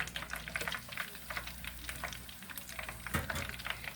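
Chicken wings frying in hot oil, a steady dense crackle and sizzle with scattered pops, close and continuous throughout.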